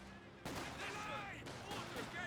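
A six-pounder anti-tank gun in Company of Heroes 2 fires, a sharp blast followed by broadband battle noise and a ringing tail, with a couple of further impacts under a game commentator's running talk.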